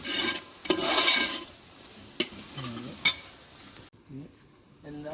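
Onions and curry leaves fry in a pan for a chicken curry while a utensil stirs them, producing close scraping strokes over a soft sizzle, with a couple of sharp knocks against the pan.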